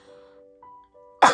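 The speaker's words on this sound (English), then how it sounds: "I have to cough, excuse me." A single sharp, close cough bursts out at the end after a quiet stretch with faint sustained tones in the background.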